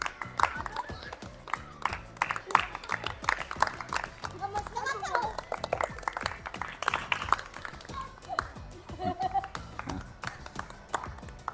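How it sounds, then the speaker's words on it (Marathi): Schoolchildren play a classroom quiz game, clapping in scattered bursts amid lively chatter and children's voices, fairly close and busy throughout. "टाळ्या वाजवायच्या बाकीच्यांनी"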